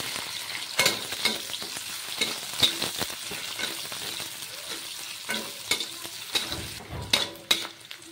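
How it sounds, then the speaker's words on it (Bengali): Chopped onion fries in the oil left from frying rohu fish koftas, giving a soft, close sizzle broken by repeated scraping stirs of a spoon against the pan. "পেঁয়াজটাকে অল্প কিছুক্ষণ ভেজে নেব।"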